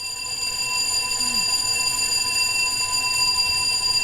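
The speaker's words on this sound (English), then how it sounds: "sounds like we have a fire alarm, people." A fire alarm rings in The Division 2 video game, a steady, continuous electronic tone that holds at even loudness for the whole stretch, with no voices over it.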